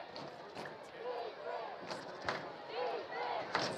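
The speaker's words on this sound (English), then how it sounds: "As you already hear this crowd getting going with 11 minutes, 30 seconds." A football stadium crowd at a Hornets game roars in a steady, distant wash with sharp shouts and thumps rising through it, while a commentator's voice talks over the noise.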